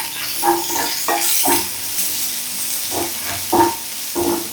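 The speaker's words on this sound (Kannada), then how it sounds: "ಸೊ ಆನಿಯನು, ಬೆಳ್ಳುಳ್ಳಿ ಎಲ್ಲ ಸ್ವಲ್ಪ ರೆಡ್ಗೆ ಫ್ರೈ ಆಗಬೇಕು" Chopped onion and garlic sizzle in a pan on a home stove, a steady close frying hiss broken by several soft stirring scrapes, with no voices.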